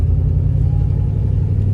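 Tow truck engine running steadily while being driven, a continuous low rumble close by with no speech.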